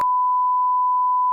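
A single steady censor beep, a pure tone held for just over a second, loud and alone.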